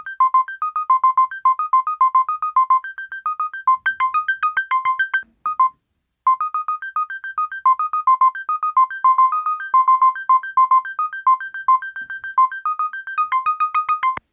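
Bright synthesizer arpeggios of rapid plucky notes jumping between pitches in an unpredictable pattern, playing alone, briefly stopping once before resuming.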